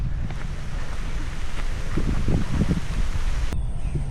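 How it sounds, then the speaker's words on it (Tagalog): Strong monsoon wind gusts steadily by the sea, roaring and buffeting the microphone alongside the wash of surf, with a few low knocks partway through and no speech. "Yan, pag ganyan yung hangin,"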